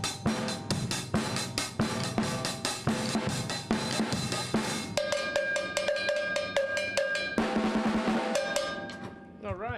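Cowbell struck in a steady, driving rhythm, loud and close, during a live band performance at a Front Porch Music show, with drums and other instruments playing alongside and the pattern shifting partway through.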